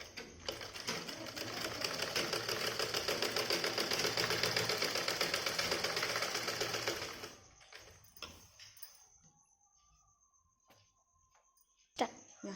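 A sewing machine stitching a blouse runs with a steady, fast mechanical chatter for about seven seconds, then stops, leaving quiet handling noises and a short click near the end.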